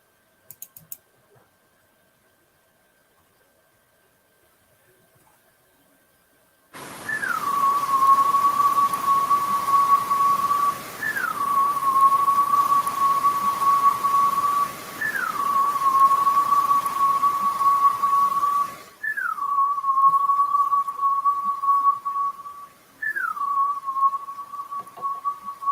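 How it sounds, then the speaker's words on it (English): A series of five long whistles, each starting with a brief rising chirp then holding a steady tone for several seconds, repeated at regular intervals over a hiss. "I call it long whistle because it is longer than the typical whistle that I've recorded."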